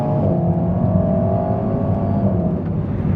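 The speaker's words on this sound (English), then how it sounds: "It's got quite a little raspy exhaust note going on." A four-cylinder Alpine A110S sports coupe holds a steady raspy exhaust drone under load, close and continuous, with a faint gear-shift dip near the end.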